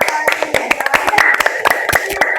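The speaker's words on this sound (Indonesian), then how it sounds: "Oke, beri tepuk tangan untuk kelompok" A classroom of primary school students clapping for a student group, a quick, uneven patter of many hands at close range that runs steadily throughout.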